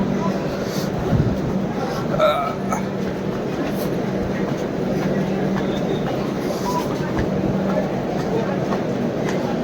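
Crowded passenger train at a station, a busy rumbling bustle of the train and platform with a dog barking and people talking throughout.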